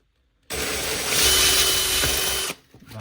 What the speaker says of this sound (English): take some 120 sandpaper, 120 grit sandpaper, and I'm going to file off